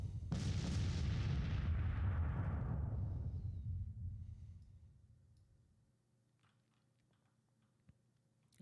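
A heavy artillery volley booms in the Civil War strategy game Grand Tactician, a loud close blast whose rumble decays slowly over several seconds, followed by a faint distant shot.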